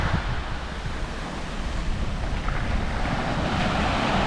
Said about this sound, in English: Big expanse of ocean, long curved beach.